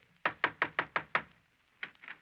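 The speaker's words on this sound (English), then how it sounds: "Somebody, I say, somebody knock." Six sharp knocks on a wooden door in an even, fairly quick rhythm, then a pause and a few softer, looser knocks, with no talk.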